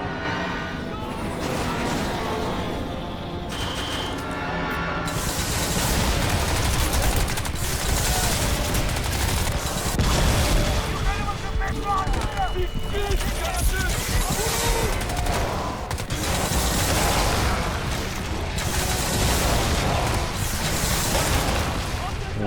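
Sustained automatic gunfire and explosions from the shooter game Crysis 2 Remastered, dense loud bursts almost continuous throughout, with a voice speaking over the din.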